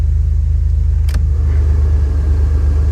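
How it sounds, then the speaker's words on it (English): Heater blower fan running inside a 1986 Oldsmobile Cutlass, a steady low rumbling whir that holds constant throughout, with one brief click partway through. "The blower is working."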